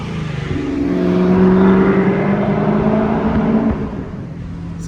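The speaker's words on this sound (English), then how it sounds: "we just finished up just a little muffler delete. Oh, listen to that thing." A 2019 Camaro ZL1 1LE with its muffler deleted revs loudly and close by, its deep exhaust note swelling, holding, then settling back toward idle, with no talk.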